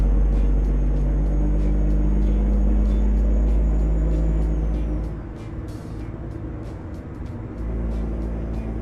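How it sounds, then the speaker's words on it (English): A truck's Jake brake in American Truck Simulator engages when the throttle is released. It makes a loud, deep, droning engine rumble that holds steady, then drops to a lower, quieter level partway through before swelling slightly again. "The off the throttle sound is a Jake brake sound."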